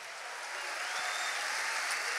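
A crowd claps steadily, dense and even applause with no breaks, a moderate wash of many hands together.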